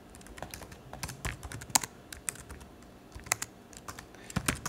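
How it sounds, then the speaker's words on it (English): Typing on a computer keyboard in a terminal, a quick irregular run of close key clicks with a few sharper presses, alone and fairly quiet. "And if you type in ls"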